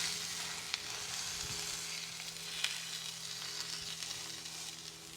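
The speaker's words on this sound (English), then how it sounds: "Gotta love that sizzle." Steady, loud sizzling of tri-tip searing in a hot cast iron skillet at about 500 degrees, continuous crackle with a few sharp pops.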